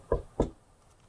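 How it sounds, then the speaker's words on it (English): Two firm knocks on a door in a video game, evenly spaced about a third of a second apart, close and distinct, followed by quiet. "I better knock."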